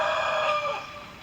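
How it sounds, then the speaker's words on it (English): A rooster crows loud and close in one long drawn-out call that fades toward the end, with no voices over it. "I'm going to kill that chicken."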